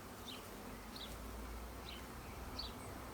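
Honey bees at an open beehive on a warm, balmy day give a steady, low buzzing drone throughout, with a few faint higher chirps rising above the hum.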